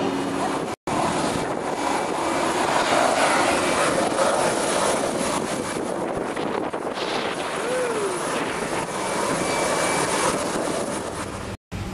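Aircraft engines run steadily before takeoff at a military base in Bosnia in 2000, a loud, continuous broadband roar filling the whole clip, with cockpit voices talking over it.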